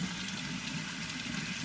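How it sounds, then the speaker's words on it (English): Hot water runs from a kitchen tap into a big cooking pan, a steady, quiet rushing stream with no breaks and no voices. "I will fill it up with hot water and put it on the stove."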